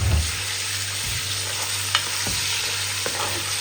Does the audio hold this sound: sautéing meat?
yes